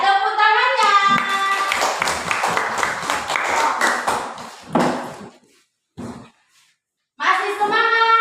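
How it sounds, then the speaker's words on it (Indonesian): A group of children claps hands in a lively burst of mixed, uneven claps, close and fairly loud, with bright tonal pings and children's voices around it, then brief pauses and a final short flurry with chiming tones. "Ya, tepuk tangannya."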